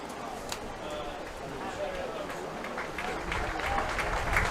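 A crowd applauds an injured quarterback at a high school football game between Holy Spirit and DeMatha, a broad, steady clapping and cheering that swells slightly toward the end, with a commentator talking over it.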